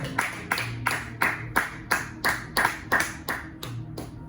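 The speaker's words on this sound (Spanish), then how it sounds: "Le palmas al Señor" A church congregation claps in unison during a sermon, about a dozen sharp, evenly spaced claps at a steady quick beat, moderately loud with a faint hum beneath.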